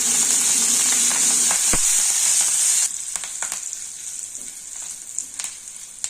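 Asafoetida, coriander and curry leaves fry in hot oil with a loud, hissing sizzle that suddenly drops to a quieter crackle with scattered pops and spatters.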